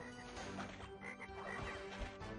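Frog croaking in Crash Bandicoot 3 on PS1 in the Toad Village level, a few short croaks over busy game music and effects, moderately loud with no talking.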